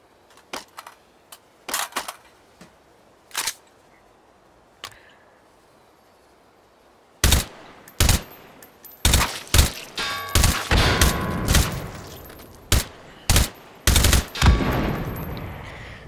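Shots from a flintlock pistol in a video game crack out one at a time, sparse and quiet at first, then come as louder, faster sharp reports with metallic ringing tails.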